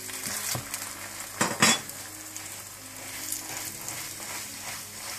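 Aloo paratha frying in butter on a pan, a steady close sizzle with a few louder bursts of spitting as it is flipped, plus brief scrapes and clinks of a utensil against the pan.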